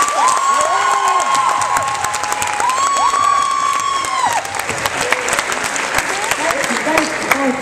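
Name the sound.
youth rally audience applause and cheering for Bryson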